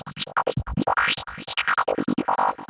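A Serum FM synth patch run through a classic 24 dB per octave bandpass filter, playing a fast run of short, evenly pulsed notes whose bright, shifting tones sweep up and down, loud and alone.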